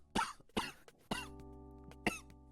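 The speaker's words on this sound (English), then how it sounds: "That post induced a coughing fit." A man coughs in a harsh fit, four sharp barks spaced roughly half a second apart, close to the microphone, with a low steady hum underneath and no speech.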